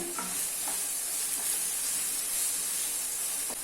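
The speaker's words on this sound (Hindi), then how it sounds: "ऑनियन को अभी मीडियम फ्लेम पे गोल्डन ब्राउन होने तक फ्राई कर लेना है।" Finely chopped onion frying in oil over a medium flame for chole chana masala gives a steady, close sizzle and hiss throughout, with a few soft stirring scrapes.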